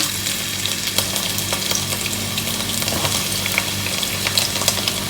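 Steady, loud sizzling of onions frying in a hot pan, with crackles and faint stirring scrapes throughout and no talking.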